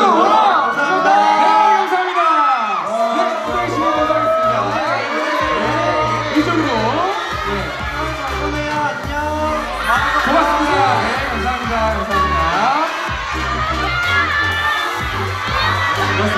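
Fans at a Wanna One fansign event at a Lotteria shout and cheer in a high-pitched, excited roar that swells and wavers continuously, loud and close.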